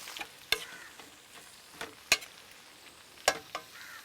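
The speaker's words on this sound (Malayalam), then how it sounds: "ഈ സവാളയും എണ്ണയും കൂടെ മിക്സ് ആവുന്നത് വരെ, അതായത് ചെറിയൊരു ചുവന്ന കളറായി ആകുന്നത് വരെ നമുക്കിങ്ങനെ ഇളക്കിക്കൊണ്ടിരിക്കണം." Sliced onions fry in oil for a Kerala egg roast, giving a soft steady sizzle. A spoon scrapes and stirs the pan in sharp strokes about once a second.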